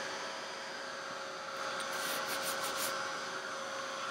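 A heat gun blows steadily over freshly sprayed ink, a constant close whooshing roar that holds the same level from start to finish, with faint scraping touches in the middle.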